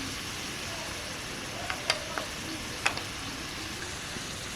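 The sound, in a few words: ginger garlic paste added to frying pan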